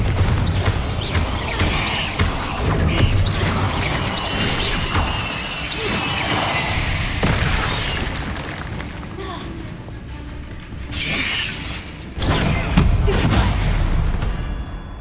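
Confringo fire spells blast repeatedly in Hogwarts Legacy, crashing and whooshing almost continuously over a busy battle, with spell casts spoken throughout.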